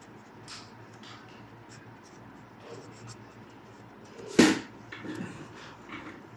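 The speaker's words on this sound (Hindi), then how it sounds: "तो हम यहाँ पे लिख देते हैं" Pen or pencil writing on paper while a maths exercise is worked through, with soft scratchy strokes at low level and one sharper tap or knock partway through; no talk.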